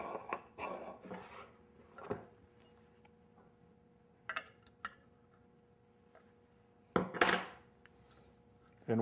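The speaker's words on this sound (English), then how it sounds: "open up this nut right behind the trigger" Small metallic clicks and taps come from loosening the nut behind the trigger of an Iwata airbrush, in sparse, close, brief bursts with quiet gaps between them.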